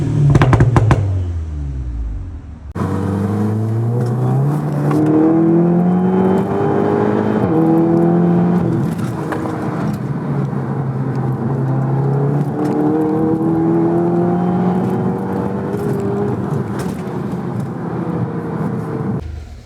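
A Seat Leon Cupra 280 with a full turbo-back Milltek exhaust and a replacement IS38 turbo revs steadily and loudly, rising and falling through sustained engine tones close to the microphone after a brief lower-pitched start.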